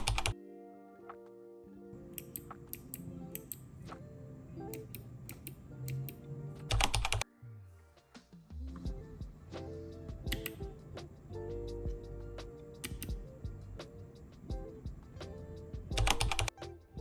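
Typing on a Figma micro keyboard, a series of sharp clicky keystrokes in irregular bursts with brief pauses and a few louder clacks, close and clear with no talking.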